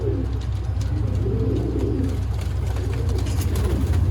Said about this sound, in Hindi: ये जी सियालकोटी जोन सिरे कबूतर।